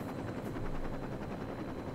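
Helicopter flying in the video game Saints Row 2: a steady, dense rotor and engine roar with fast chopping pulses, continuous and fairly loud throughout, with no talking.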